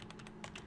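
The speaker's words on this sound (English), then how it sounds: "I drag from the upper left to the lower right where I want the box to be, and then I start typing" Keys clatter on a computer keyboard during quick typing in a presentation program, a steady run of close, crisp clicks with no voices.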